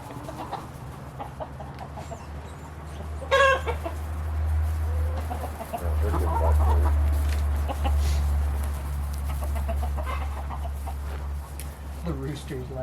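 A rooster clucks and calls intermittently, with one louder squawk, over a steady low hum; quiet human voices are occasionally heard.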